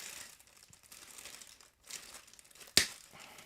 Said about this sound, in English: We do that in the plastic bag because it cuts it clean and doesn't go flying.